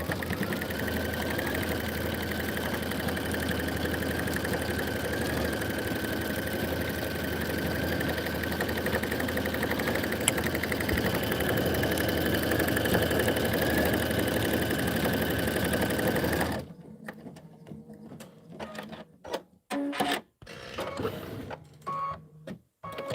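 A home embroidery machine stitches a design with a steady, continuous mechanical whir and needle chatter for most of the stretch, then stops abruptly, leaving quiet with scattered small handling noises.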